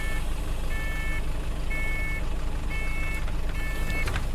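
Bus doors closing in a driving game on an Enviro 200, heard as a repeating two-tone electronic beep, about five evenly spaced pulses, over a steady loud engine drone.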